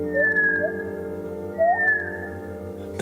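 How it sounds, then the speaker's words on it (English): A reconstructed call of the extinct huia, a New Zealand bird: clear, gliding whistles that rise and then slide down, heard twice against a steady low background hum, fairly close and unaccompanied. "It's what we think the huia might sound like if we'd let it live."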